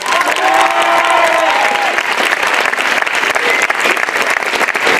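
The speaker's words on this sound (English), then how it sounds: "Let's give a big round of applause." Audience applause after a school debate: a sustained, dense wash of clapping from a crowd filling the whole stretch, with a few brief whistles near the start.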